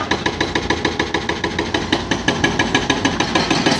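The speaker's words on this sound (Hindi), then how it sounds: "ये कुछ इस टाइप का पत्थर निकल रहा, रेतीला पत्थर है ये, जहाँ हम लोग ब्रेकिंग कर रहे हैं टाटा से।" A 2000-model TATA 210 excavator with an Isuzu engine works a rock breaker on sandy stone, fast rhythmic hammering pounding over the loud running engine, close and continuous.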